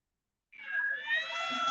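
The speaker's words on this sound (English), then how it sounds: "It's a kitty cat." A cat lets out a single drawn-out meow after a moment of silence, close and fairly clear, rising slightly and holding steady to the end.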